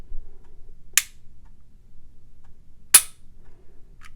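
A Glock Gen5 pistol fitted with a Timney trigger gives two sharp, crisp clicks about two seconds apart, close and clear against quiet room tone, followed by a fainter tick.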